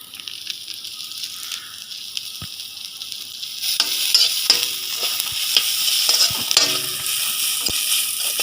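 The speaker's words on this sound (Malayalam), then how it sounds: "നല്ലോണം വഴറ്റി നല്ലൊരു ബ്രൗൺ കളറാവുന്നവരെ നമ്മൾ വഴറ്റിയെടുക്കണം." Native curry leaves sautéing in a hot pan while making pork fry: a quiet sizzle that bursts into a louder, crackling fry partway through, with steady spattering and a few stirring clicks.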